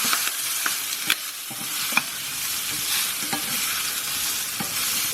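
Pork sizzles in a pan with turmeric, cumin and coriander, a soft steady fry overlaid by spatula scrapes and light clicks as the spices are stirred through.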